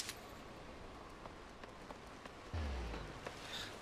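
Rain falls in the video game Final Fantasy XIV, a soft, steady patter of drops on surfaces with occasional sharper drips and a brief low thump, quiet and without speech.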